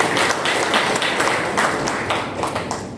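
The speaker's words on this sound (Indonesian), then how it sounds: "Tepuk tangan lagi untuk NTB." A crowd applauds steadily at a teachers' symposium in Lombok Barat, dense overlapping claps filling the space with a few louder bursts, fairly loud and close, no one speaking.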